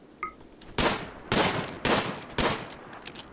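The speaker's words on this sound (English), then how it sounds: "Yeah, keep shooting it though." Four separate loud gunshots ring out in RimWorld as colonists fire at a beaver, spaced roughly half a second apart, each a sharp close crack with a short decay and quiet between.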